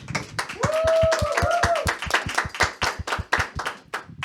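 An audience claps for a guest at a Catholic faith show, a close, evenly spaced run of distinct hand claps, with a voice briefly singing or speaking in the middle.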